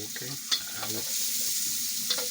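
Red onions fry in a hot pan as they are stirred with a wooden stick, giving a steady loud sizzle with a few scraping knocks from the stirring.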